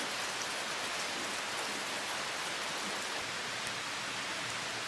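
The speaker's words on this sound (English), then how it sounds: "today it's raining outside" Rain falling outside, heard as a steady, dense hiss of drops on surfaces that stays even and fairly loud from start to finish, with no voices.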